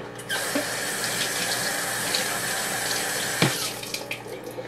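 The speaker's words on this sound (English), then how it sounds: "I'm gonna have to rinse that one, aren't I? Rinse that a little bit." Running water from a kitchen tap pours steadily as something is rinsed while cooking salmon scampi, a close continuous splashing gush with a brief knock partway through, no talk.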